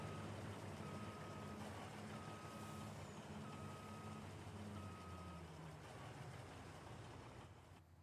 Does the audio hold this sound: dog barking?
no